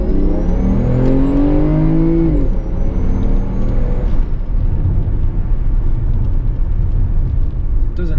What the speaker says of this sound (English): I'm just impressed at how it accelerates, because it is very quick